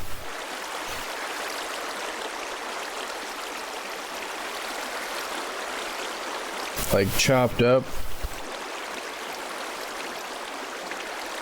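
Flowing water blocks in Minecraft give a steady rushing, trickling stream sound throughout, with a brief burst of clicky block-breaking noise partway through and a voice speaking over it.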